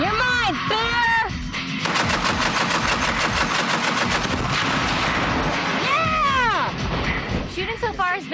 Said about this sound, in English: It's World War II belt-fed automatic. It's an air-cooled 30 caliber machine gun.